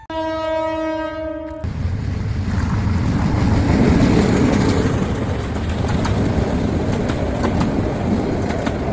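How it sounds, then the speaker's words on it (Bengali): A train horn blasts at first, then a long train of about eighteen coaches rumbles loudly into a station with steady clattering wheels. "ট্রেন কি আওয়াজ শোনা যাতি"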